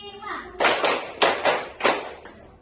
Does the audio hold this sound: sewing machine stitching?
no